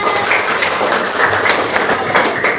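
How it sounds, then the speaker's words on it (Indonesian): A classroom of students at a junior high school in Indonesia claps together, steady and loud, sustained for a few seconds with no voices on top. "tepuk tangan untuk semuanya"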